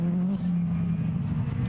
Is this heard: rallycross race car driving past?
yes